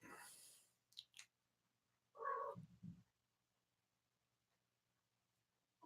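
A cat in a quiet room during a paranormal investigation gives a short vocal meow, followed by a couple of lower murmuring calls, fairly close but faint against near silence.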